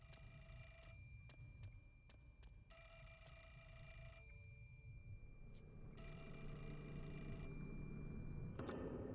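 A telephone bell rings in bursts in a ghost camera video game, repeated electronic trills separated by short gaps, fairly faint over a low background hum.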